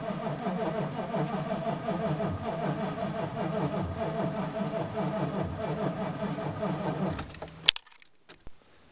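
A 1999 GMC Sierra 3500 pickup engine cranking stubbornly on a cold start, a steady rhythmic chugging that runs for about seven seconds, then cuts off abruptly, leaving a few faint clicks and near silence.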